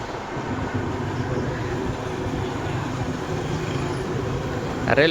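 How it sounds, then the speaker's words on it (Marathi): A train rumbles steadily in the distance, a low continuous roar of wheels with a voice talking over it. "ते बघा रेल्वे चालली"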